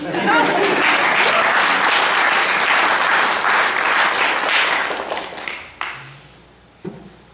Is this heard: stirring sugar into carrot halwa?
no